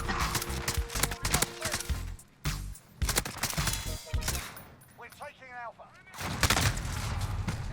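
Rapid bursts of single-fire weapon shots in a video game crack in clustered volleys, pausing around a gap in the middle, with a voice speaking over part of the firing.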